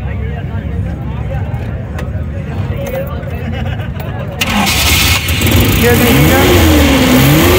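A used Suzuki Ravi pickup at a Sunday car bazaar is started, its engine catching midway and settling into a loud, close, revving run, with people talking throughout.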